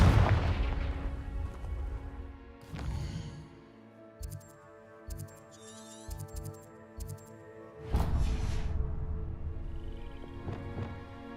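Confringo blasting spells in Hogwarts Legacy erupt as booming explosions, one heavy blast at the start, another around the middle, and a third near the end, with short crackling bursts and game tones between them.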